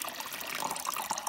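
Tap water trickling and splashing as it is poured into the reservoir of a CompactClass filter coffee machine, a close, steady gurgling stream over about a second and a half, with no talking.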